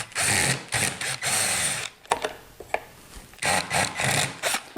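A power drill running in reverse to remove a stripped screw whirs in several bursts with brief pauses between, a close, grinding mechanical buzz with a rattling texture.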